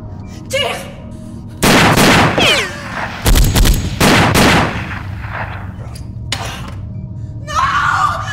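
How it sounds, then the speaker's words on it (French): Loud gunshots ring out in a French thriller action film, several sharp blasts in quick clusters with echoing tails and a shout, close and dominant over the scene. "Tire, Bogdan!"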